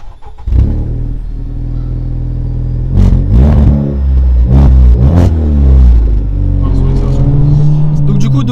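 A Honda Civic Type R FK8 starts and pulls away, its engine droning low before several sharp revs rise in pitch, with loud tonal bursts near the car and voices talking over it.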